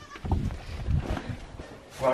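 A goat bleats in short, wavering cries close by on a homestead, mixed with a person talking nearby.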